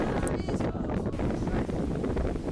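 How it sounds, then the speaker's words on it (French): Wind rising on a hill slope at a soaring site, a loud, steady roar buffeting the microphone with gusty rumble throughout, close and continuous. "C'était le vent qui se levait."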